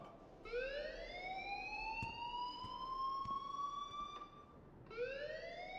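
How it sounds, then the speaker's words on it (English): A fire alarm in the video game Life is Strange sounds a steady electronic siren tone that rises and holds, then cuts out and starts again, with a few faint clicks underneath and no talking. "please turn off that alarm since that's your job"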